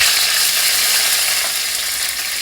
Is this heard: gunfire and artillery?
no